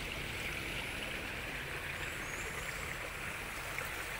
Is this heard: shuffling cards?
no